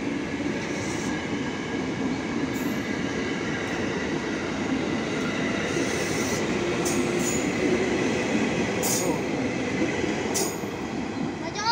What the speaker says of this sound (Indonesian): KRL dari stasiun Nangke menuju stasiun Duri dan sekitarnya.